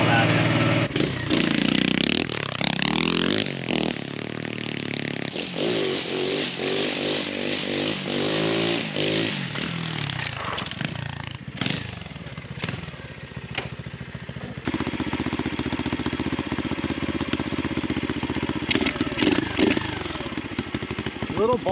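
A Chinese Xpro pit bike's engine runs close up, revving with rising and falling pitch sweeps and boggy at the bottom end, then settling into a rough, steady run.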